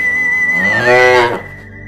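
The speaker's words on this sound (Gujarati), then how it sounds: "જે ગાય તમે જોવો છો ને એ ખૂંધવાળી ગાય એ આપણી દેશી ગાય છે" A single long, loud moo from a humped desi Gir cow with a rising, strained pitch that swells and then breaks off, over a faint steady background hum.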